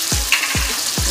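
Sun-dried tomatoes sizzle as they are added to a pan of pesto pasta, with steady frying hiss and three soft, evenly spaced low thumps of stirring or tossing, no talking.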